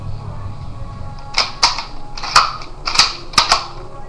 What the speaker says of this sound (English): it's actually a pretty smooth bolt. There, round in, boom.